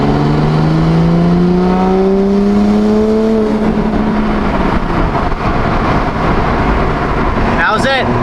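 Toyota Supra engine loud and close, climbing steadily in pitch through a fourth-gear pull from 2,500 to 4,000 rpm, then easing off as the run ends.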